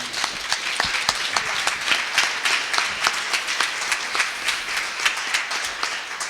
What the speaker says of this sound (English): I would like us to applaud them again.